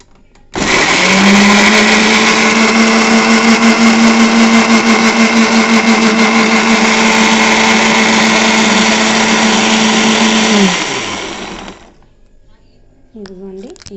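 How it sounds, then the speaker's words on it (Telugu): A mixer grinder jar whirs loudly and steadily as it blends chopped onions, running about ten seconds at a constant pitch before the motor winds down and stops. "అవి కూడా కట్ చేసి మిక్సీ జార్లో వేస్తాను"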